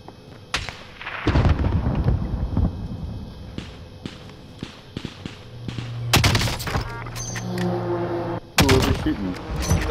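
Gunshots in a video game ring out in scattered bursts, some single sharp cracks and a few loud clustered volleys, set against a busy background of game ambience.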